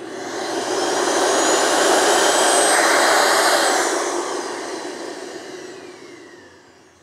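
SEBO D4 canister vacuum cleaner running with its filter removed, a loud steady rushing motor roar with a rising then falling high whine that fades out toward the end.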